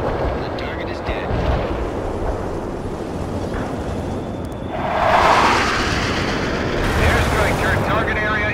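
Airstrike explosions in a war video game set during a siege of New York, a dense rumbling barrage with heavier booming bursts near the middle and end, continuous and loud throughout.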